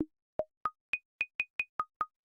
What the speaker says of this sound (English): I've just got this sine wave with a really short decay